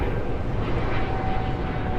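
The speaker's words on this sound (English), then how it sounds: "Oh, check out this plane taking off here." A fixed-wing airplane taking off in Miami, a steady broad roaring engine rumble heard from a distance, loud and continuous with no voices over it.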